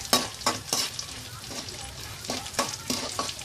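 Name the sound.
frying crushed garlic in oil on low flame, stirring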